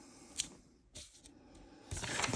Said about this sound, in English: I can just dig into the paper